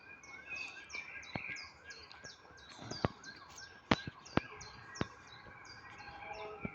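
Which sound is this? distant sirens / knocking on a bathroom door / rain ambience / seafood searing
distant sirens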